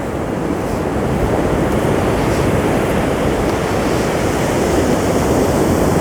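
Sea waves crash onto a shore in a loud, continuous roar of surf, with wind rushing over the microphone and no talk.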